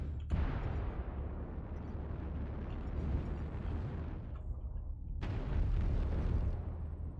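Missile strikes in a Gundam mech battle game, heavy rumbling blasts that roll on continuously, with one fresh explosion erupting near the start and another loud impact bursting in later, low and booming throughout.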